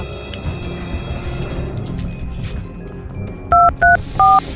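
Three short telephone keypad beeps as a number is dialed, coming near the end over a steady background murmur.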